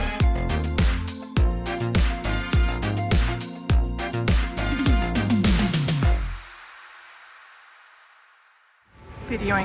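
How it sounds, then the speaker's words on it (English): Church bells ring in the background with repeated strikes and a rich metallic tone, rolling steadily for about six seconds before decaying into a quiet ringing tail, then a brief noisy burst at the end. "Videoing this so you can hear the bells in the background."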